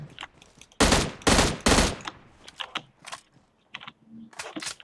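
Gunfire in the mobile battle-royale game PUBG Mobile: three loud, close bursts of shots in quick succession, followed by scattered lighter clicks and smaller game sounds, with no talking.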